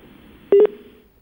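A short burst of telephone dialing tones on a call line, a few quick beeps lasting a fraction of a second over a faint hiss, with no speech.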